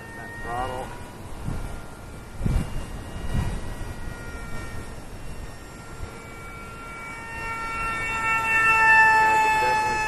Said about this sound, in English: it's flying nicely for such a small, lightweight plane in this wind